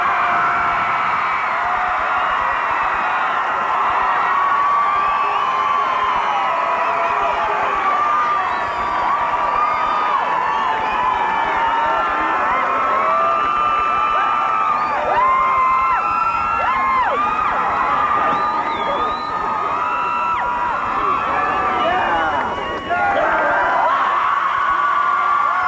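A large crowd cheers loudly for a guest at a 1995 band festival in Alexandria, Minnesota, with steady, sustained roaring, whoops and screams lasting throughout.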